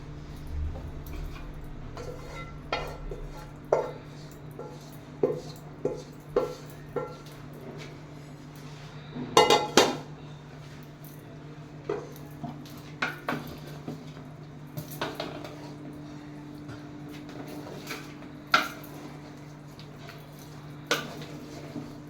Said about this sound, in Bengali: মাংস রান্না করে শেষ, এখন আমরা পোলাওটার সাথে মিশিয়ে ফেলব।